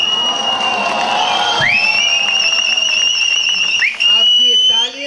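A live stage audience whistles loudly for the comedic actor Asrani, with sustained shrill whistles over a continuous roar of cheering and clapping, plus several sharp rising whistle blasts near the end.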